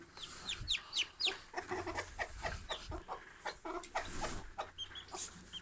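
Several newly hatched chicks peep in quick, high repeated chirps, close and clear, with soft clucking from a hen beneath them.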